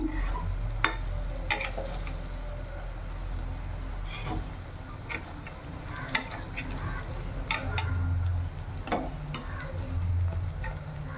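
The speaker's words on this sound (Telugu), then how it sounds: "కొరమేలు చేప ఫ్రై రెడీ అయిపోయింది." Korameenu (murrel) fish frying in hot oil, a steady close crackling sizzle with occasional sharper pops and spatters throughout, no voices.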